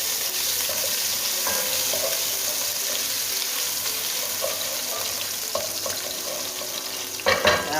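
Garlic and ginger paste fries in a little olive oil for fried rice, giving a loud, steady, close sizzle throughout with a few faint clinks and a brief stirring clatter near the end.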